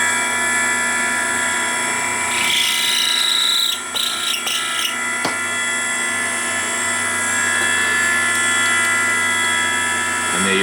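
A motorized case trimmer mounted on a Dillon 650 press trims 30-06 brass with a steady, loud, close whine that runs for the whole stretch, broken by a few brief clicks and knocks as cases feed through.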